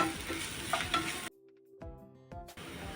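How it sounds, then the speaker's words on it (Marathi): Ginger garlic paste fries with onion in oil for a mushroom masala, giving a close crackling sizzle with stirring that cuts off into a near-silent gap and then returns. "आपण त्याच्यामध्ये आले लसूण पेस्ट टाकूया ती पण कांद्याबरोबर भाजून घेऊ"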